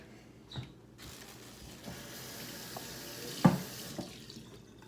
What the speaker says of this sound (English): Let me rinse my cutting board real quick.